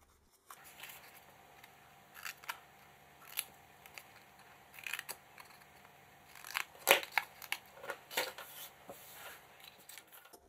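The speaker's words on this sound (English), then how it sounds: "now what I'm doing is cutting out tiny little triangles of paper" Small scissors snip tiny triangles from paper for a handmade heart-shaped box, a run of quick, faint crisp cuts with irregular spacing and light paper rustling in a quiet room.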